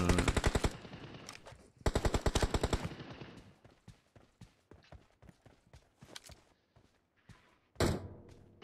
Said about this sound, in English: That sounded like you got a headshot.